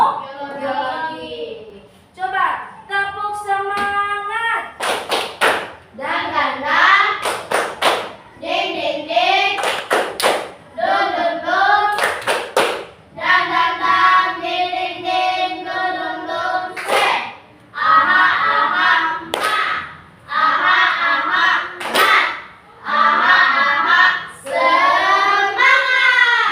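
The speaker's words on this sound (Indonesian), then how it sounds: "Coba tepuk semangat." Students in a classroom performing a rhythmic spirit clap, sharp patterned bursts of claps alternating with chanted or sung voices, close and loud, with repeated call-and-response sections.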